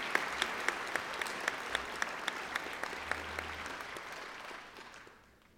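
An audience at an honorary degree ceremony applauds to welcome a guest speaker, a dense, even patter of many clapping hands that holds steady and then fades away at the end.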